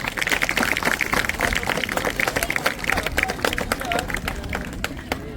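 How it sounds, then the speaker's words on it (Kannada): An audience at a school Republic Day celebration breaks into dense, sustained clapping in welcome, a steady crackle of many hands with a general crowd murmur underneath. "ಸ್ವಾಗತವನ್ನು ಜೋರಾಗಿ ಚಪ್ಪಾಳೆ ತಟ್ಟೆ"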